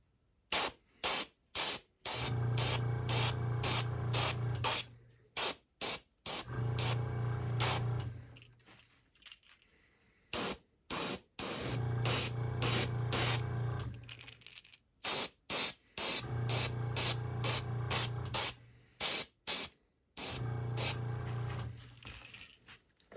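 Repeated bursts of airbrush spraying paint onto a fishing lure, hissing in pulses separated by brief pauses, close and fairly loud with a low motor hum during each spray.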